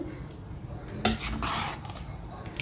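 A spoon works carrot and sweet pumpkin halwa cooking in milk in a pan, giving soft scraping and clinking with one sharp metallic clank partway through, close by and with no talking.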